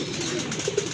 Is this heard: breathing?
no